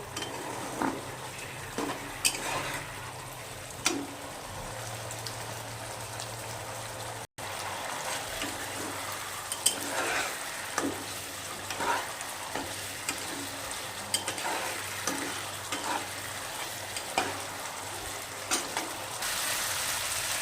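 Spice paste frying and sizzling in a pan for a katla fish curry, a steady close crackle with occasional stirring scrapes throughout, no voices.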